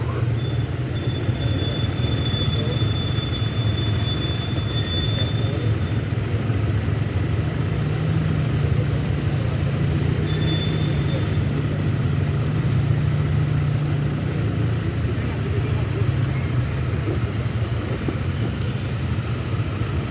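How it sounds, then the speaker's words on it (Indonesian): Dense holiday traffic at Telaga Menjer in Dieng, a constant heavy rumble of engines that stays loud and unbroken throughout, with occasional faint high squeals over the roar. "Luar biasa teman-teman kepadatan kendaraan pada liburan kali ini di Telaga Menjer."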